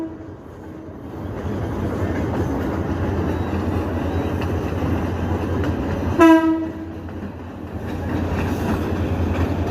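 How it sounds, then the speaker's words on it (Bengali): At a level crossing, a train rumbles past with a steady rolling clatter, then sounds one loud, sharp horn blast before the passing noise carries on. "এই যে গাইস ট্রেন"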